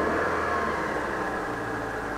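A Hyundai Sonata with around 500,000 km on it idles with a steady, low engine hum close by, even and unbroken, with no voices.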